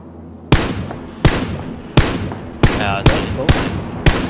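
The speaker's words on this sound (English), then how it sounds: "Is that you shooting?" Gunfire in the video game PUBG Battlegrounds: seven loud, evenly spaced shots ring out about every two-thirds of a second, each with a decaying tail, close and alone without talk.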